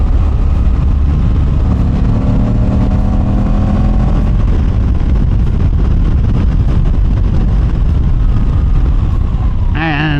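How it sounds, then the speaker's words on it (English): A Moto Guzzi adventure bike with a transverse-mounted V-twin engine runs with a steady, loud low rumble and harmonic drone, heavy wind noise over it, and a siren-like warble appears at the end. "It makes a nice sound. The transverse mounted V-twin."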